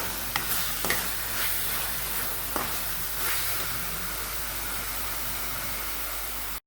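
Parotta salna masala with tomato, onion and salt being mixed in a pan, a steady hissing sizzle with a few sharp spoon knocks early on, close and even, then cutting off abruptly.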